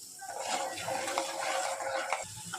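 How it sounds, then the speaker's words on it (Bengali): A paste of chili powder, salt and turmeric fries and is stirred in a pan for a fish and eggplant chorchori, making a quiet, textured sizzle with soft scraping and no voices. "নুন হলুদ দিয়ে যে ভিজিয়ে রেখেছিলাম ওইটা এখন কষিয়ে নেব।"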